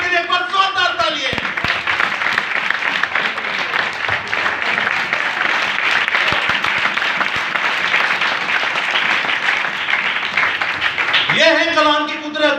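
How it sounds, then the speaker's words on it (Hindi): A church congregation claps loudly during a sermon, a sustained dense burst of applause lasting around ten seconds, framed by a preacher's amplified voice at the start and end. "एक बार जोरदार तालियां"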